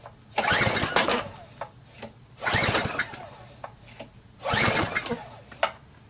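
A Craftsman pressure washer engine taken off choke sputters in three uneven bursts, each catching briefly and dying back, with faint clicks between and no steady run.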